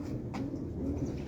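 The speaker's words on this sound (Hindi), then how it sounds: "नहीं, बहुत अच्छे कबूतर है ये बहुत परवाजी कबूतर है।" Flying pigeons coo in soft, low, repeated throaty calls, close by, over a steady background hum.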